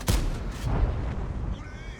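A single heavy artillery boom in World of Tanks, with a deep, rolling low-end rumble that decays slowly over a couple of seconds, followed by a faint whine.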